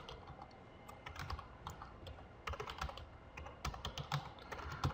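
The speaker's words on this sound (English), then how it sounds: "I'm having trouble typing today" Typing on a computer keyboard while writing code, with irregular bursts of quick key clicks and short pauses, close and fairly quiet, with no talk.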